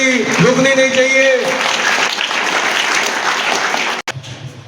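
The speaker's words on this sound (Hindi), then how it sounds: "बजती रहनी चाहिए ताली, रुकनी नहीं चाहिए।" Students clap on and on at an Aakash coaching institute seminar in Wazirpur, a dense, steady wash of applause with a voice speaking over it before it cuts off abruptly.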